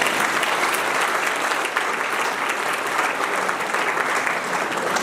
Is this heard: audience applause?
yes